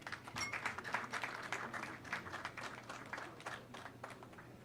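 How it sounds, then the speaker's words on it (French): Applause from an audience for a magistrate at a formal council presentation, a steady dense patter of many hands clapping, fairly faint and distant, with no talk over it. "Veuillez l'applaudir, s'il vous plaît."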